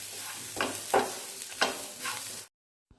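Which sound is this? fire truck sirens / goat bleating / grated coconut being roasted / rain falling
grated coconut being roasted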